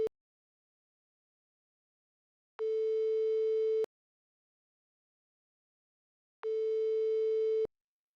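A telephone line tone sounds while calling someone: two steady electronic beeps, each lasting a little over a second and separated by a few seconds of silence, clean and alone.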